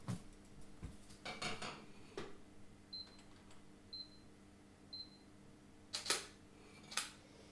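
Test shot of a camera fired by remote control during a drink photography shoot under hard light: a few sharp mechanical clicks and clacks stand apart from short faint beeps, in a quiet room with no talking.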